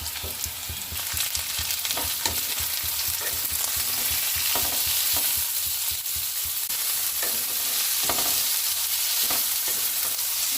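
Capsicum and bell peppers fry in a hot pan with a dense, continuous sizzle, broken by frequent scraping stirs close up.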